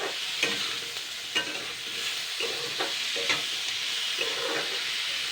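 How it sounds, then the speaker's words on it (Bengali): Green tomatoes fry in a pan, a soft, even sizzle close by, with a spatula stirring them in light, irregular scrapes and taps. "এবার এইগুলোকে আমি জাস্ট দুই তিন মিনিট ভালো করে নাড়াচাড়া করে নেবো"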